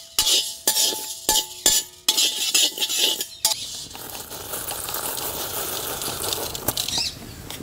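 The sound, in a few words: dal, rice, pepper and fenugreek being dry-roasted and stirred in pan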